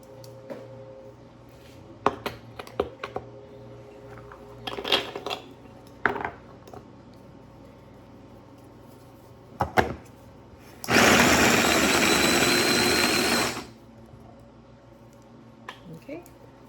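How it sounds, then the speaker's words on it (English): Small electric food chopper coarsely chopping ingredients for zucchini bread, a loud burst of whirring blades lasting about three seconds, set among scattered clinks and kitchen knocks. "just so I don't overwhelm the chopper, because like I said, it is a small volume"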